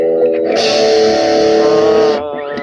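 A loud, crunchy overdriven electric guitar chord rings through a Blackstar amplifier on a British crunch setting, sustaining for over a second before cutting off.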